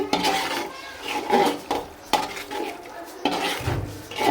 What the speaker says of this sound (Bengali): এখন আমি পোলার চাল দিয়ে দিতেছি